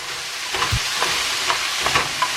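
Carrots and onions sauté in a pot as a steady sizzle, with soft stirring scrapes recurring roughly every half second, close and alone without talk.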